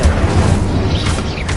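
A Confringo blasting spell erupts in the Hogwarts Legacy video game as a dense, sustained rumbling boom that stays loud and steady without a sharp single crack.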